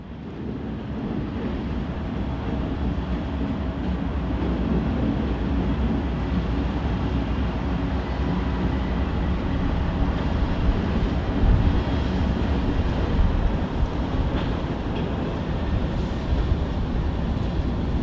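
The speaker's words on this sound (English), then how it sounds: "Last through train on the S-Line." A Norfolk Southern through train rolls along the S-Line on the Southern Railway loops, a continuous low rumble and rolling roar that stays steady and close for the whole stretch, with some wind buffeting the microphone.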